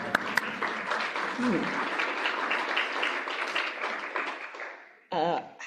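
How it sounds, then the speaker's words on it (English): Sustained applause from members of a writers' league at an awards ceremony, a steady wash of clapping that fades near the end before a short burst of speech cuts in. "Give yourself some applause."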